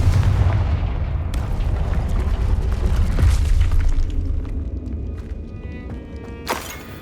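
Confringo blasting spells from Hogwarts Legacy go off as deep, rumbling explosions, a heavy boom near the start and further sharp blasts around the middle and near the end, over a continuous low roar.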